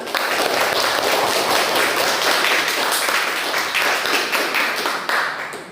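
A classroom group claps hands for a student team that has just presented its answer, loud, close and steady with individual claps audible in the mix, tapering slightly at the end.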